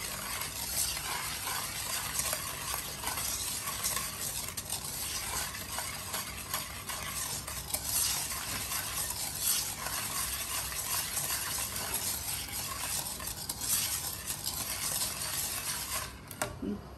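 Purple biko rice cake bubbles and simmers in a pan while being stirred, a steady close wash of soft bubbling, scraping and sizzle-like hiss that runs throughout with no talk.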